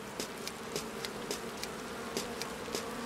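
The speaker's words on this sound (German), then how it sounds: "Ach, da sind Fliegen." A swarm of flies buzzing in the Lonely Mountains Downhill video game, a quiet, steady insect drone with a few brief swells, with no talk.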